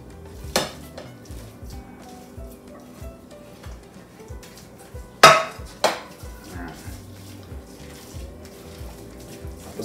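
Ground ingredients for pinangat, a ginataang gabi dish, go back into a bowl with a few sharp utensil scrapes and clinks against the dish, including one louder clatter, over a quiet kitchen background.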